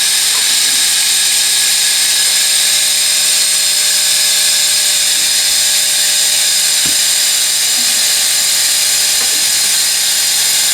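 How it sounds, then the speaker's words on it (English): An air compressor supplying air assist for an Atomstack laser engraver runs continuously, a loud steady hiss with a mechanical whine and no pauses throughout. "The compressor really isn't that loud."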